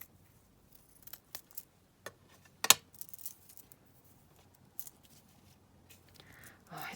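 Scissors cut black lace in a quiet room, giving a handful of soft, sparse snips and clicks spread over several seconds with near silence between them.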